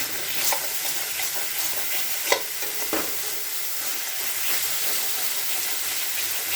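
Boiled chickpeas are stirred into masala frying in a pan, giving a steady, close sizzle and hiss with soft scraping stirs and a couple of sharper clacks of the spoon. No talk.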